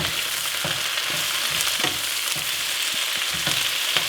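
A whole bag of spinach sizzles and sautés in a hot pan, a steady bright crackling hiss punctuated by soft scraping stirs every half second or so, close and without talk.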